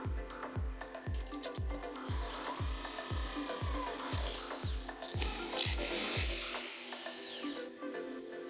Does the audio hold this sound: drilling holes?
yes